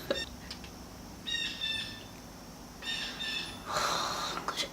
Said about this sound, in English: my window is open and this bird is killing me